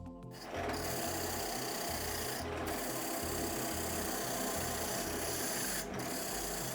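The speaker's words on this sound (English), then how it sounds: "And now I will clamp it on the flank and I will sharpen it." A beech wood lid blank turns on a lathe as a cutting tool sharpens its flank, giving a steady, loud whirring rasp with a rhythmic low hum and two brief pauses.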